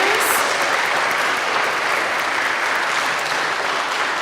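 An audience claps for a group of third graders, a steady, dense round of applause from many hands, loud and continuous with no voices on top.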